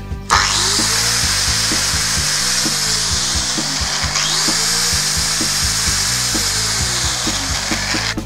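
A 900-watt Metabo angle grinder runs continuously at high speed, a loud steady whine with small rhythmic surges, close by and without any voices.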